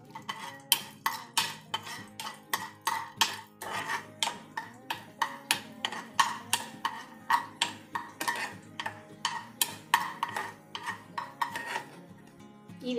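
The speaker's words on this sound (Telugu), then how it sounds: "ఇప్పుడు దీనిలో మనం కొంచెం జీడిపప్పు వేసి వేయించుకోవాలండి." Cashews fry in a pan for tomato bath while a metal spoon stirs and scrapes them, making steady rhythmic scraping and clinking strokes roughly every half second, close by, with no talking.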